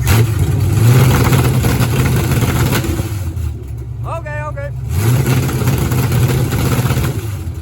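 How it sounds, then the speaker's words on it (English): Car engine fitted with an MSD 6AL ignition box and rev limiter set at 2,000 RPM, running loud and steady with a harsh low rumble, easing briefly mid-clip before surging again, a short voice-like tone heard in the lull. "Time to test out a rev limiter, man."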